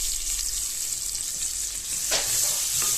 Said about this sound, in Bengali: তো নেড়ে চেড়ে পেঁয়াজটা ভেজে নিতে হবে।